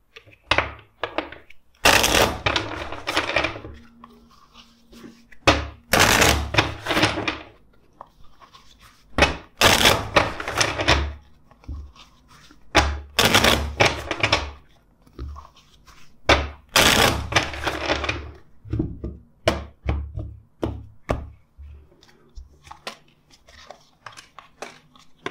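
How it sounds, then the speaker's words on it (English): A deck of tarot cards shuffled repeatedly by hand, coming as several bursts of riffling and snapping card noise separated by short pauses, close and fairly loud, with brief quiet speech between some bursts. "let's shuffle the deck"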